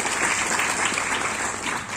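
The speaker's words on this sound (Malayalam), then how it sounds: "നല്ലൊരു കൈയടി കൊടുക്കും." An audience breaks into applause, many hands clapping densely and evenly for a couple of seconds, close and lively.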